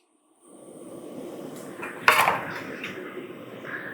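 Metal kadai (wok) set down on a kitchen stove with a single sharp clank, followed by faint clattering and a low steady background hiss.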